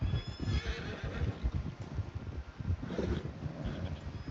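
Horse in the video game Red Dead Redemption 2 neighs loudly near the listener over a steady clatter of hooves, with a light wind rush throughout.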